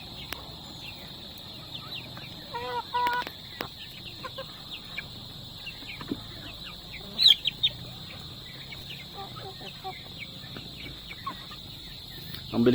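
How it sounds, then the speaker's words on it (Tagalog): Native chicken chicks and ducklings cluck and peep in a rearing pen, scattered chirps and a few louder calls over a steady high insect-like whine, with faint voices in the background. "Ito na pala yung mga sisiw natin, no? Sisiw ng native"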